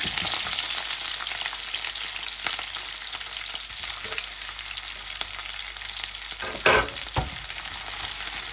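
Onions fry in oil with curry leaves for mutton sukka, a steady close sizzle that continues throughout, with a couple of sharp stirring scrapes near the end and no speech.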